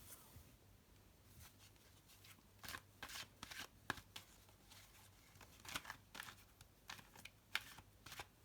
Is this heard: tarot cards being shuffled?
yes